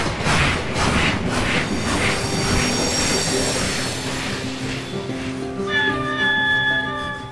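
A train rumbles past up close, with loud metallic wheel squeals and sustained high screeching tones rising over the steady rolling noise.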